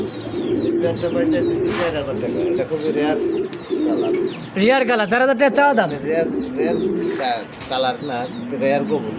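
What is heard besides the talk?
pigeons cooing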